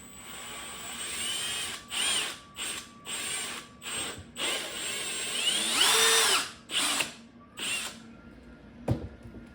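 A power drill bores through 3-inch PVC pipe in repeated bursts of whirring, each rising and falling in pitch. A sharp click follows near the end, close-up, with no speech.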